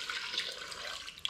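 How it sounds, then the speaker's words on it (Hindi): A glass of water is poured into a cooking pot for a desi chicken dum pukht handi, a short, close splashing trickle with bright liquid gurgles, heard alone. "तो 1 गिलास इसके अंदर पानी डाल देंगे।"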